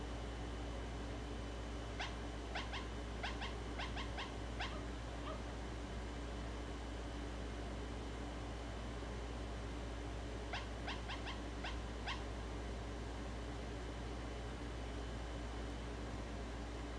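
Two short bursts of small yappy puppy barks from the kids' game Hi! Puppies, several quick yips each, over a steady hum and faint hiss.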